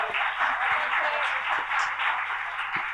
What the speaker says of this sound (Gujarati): જોરદાર તાળીઓ ગોપાલી બેન માટે